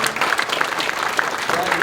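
Applause from an audience at a Packard club Saturday night awards event, a steady dense patter of clapping with speech-like voices mixed in throughout.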